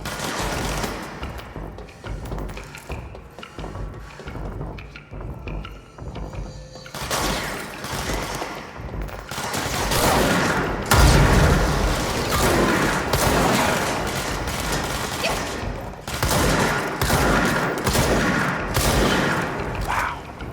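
Rapid bursts of gunfire from the video game Control fill the stretch, with dense volleys, booms and crashing impacts layered over a constant loud backdrop of game noise; the firing grows heavier in the second half.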